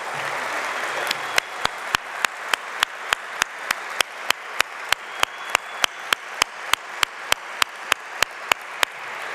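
At a 30th-anniversary celebration, the audience claps for a chorus in a steady unison rhythm of sharp, evenly spaced claps over a faint room hiss.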